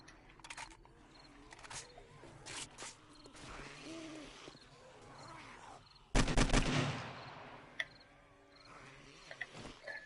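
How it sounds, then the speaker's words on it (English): An AK rifle fires in 7 Days to Die during a zombie horde fight, with a short loud burst of rapid gunfire cutting through quieter creature noises and game ambience. "The AK is super expensive to use."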